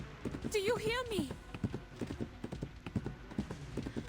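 A horse runs over ground with shallow depressions, its hooves making a rapid, rhythmic clip-clop that stays close and steady. A voice talks over it, and a brief high call rises near the start.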